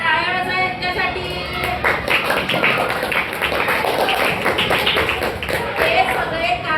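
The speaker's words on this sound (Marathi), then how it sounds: "टाळ्या वाजवा यांच्यासाठी." Children in a classroom clap their hands together for classmates, a steady burst of many hands applauding at close range, with a teacher's voice speaking over the start.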